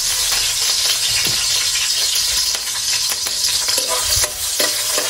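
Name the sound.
onion sizzling as added to pan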